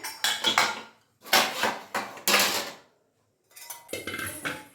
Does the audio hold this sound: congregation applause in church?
no